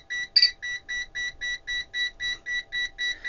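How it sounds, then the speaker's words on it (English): A VENLAB VM600A multimeter set to its 20 amp range beeps steadily, about a dozen evenly spaced, clear electronic tones repeating roughly every quarter second, close and alone. "Why is it beeping?"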